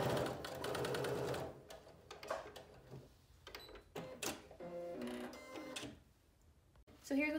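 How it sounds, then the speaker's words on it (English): A sewing machine understitches a coat lining in a few runs, a fast mechanical rattle starting and stopping with short pauses and handling noises between. "now I'm going to understitch on that side"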